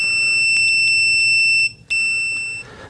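Continuity beep from a TOOLTOP ET8135 multimeter at maximum volume: a loud, steady, piercing electronic tone that breaks off briefly near the middle and then resumes, with no voices.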